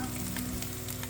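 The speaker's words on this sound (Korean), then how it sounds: "네, 지금 맛있게 익고 있는 소리요" Vegetables, including potato, frying in a hot pan beside chicken: a steady, close crackling sizzle that goes on without a break.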